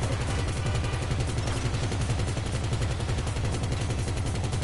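A minigun fires in a video game, giving a continuous rapid buzzing rattle of shots that holds loud and even for the whole stretch, with no pauses.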